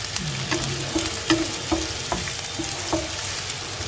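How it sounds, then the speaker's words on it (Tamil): Onions sautéing in a pan while chilli potato is being made, a steady close sizzle broken by soft scraping stirs that come every half second or so. No voices are heard. "நல்லா வெங்காயம் வாசம் வர்ற வரைக்கும் வதக்கிடலாம்."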